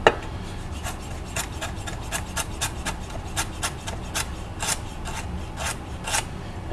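A knife slicing a carrot thinly on a cutting board makes a quick, fairly regular run of crisp cuts and taps over a low, noisy background, fairly close and continuous.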